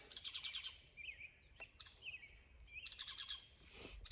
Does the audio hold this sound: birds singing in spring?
yes